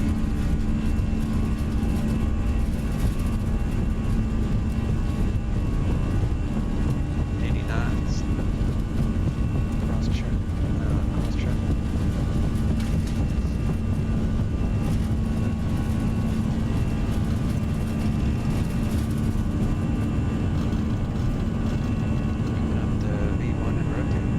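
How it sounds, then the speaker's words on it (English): Airbus A320 engines at takeoff power in the X-Plane 11 flight simulator, a steady, loud, broad roar with a low hum that holds unchanged throughout. "Engines are stable. Takeoff power is set."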